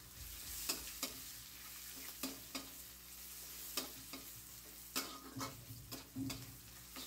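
Onion, garlic and green chilli fry quietly in a pan, a soft sizzle with scattered clicks and scrapes of stirring spread across the clip.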